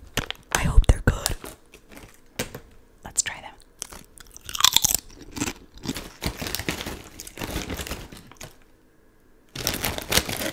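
Crisp, close crunching and chewing of Lay's spicy hot pot flavor potato chips comes in irregular bursts, with brief quiet gaps and a final loud spell of munching.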